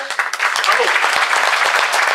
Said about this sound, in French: J'aimerais qu'on leur fasse un tonnerre d'applaudissement